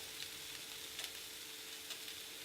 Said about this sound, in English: I generally do this with a pair of tongs so I can break the noodles up as I go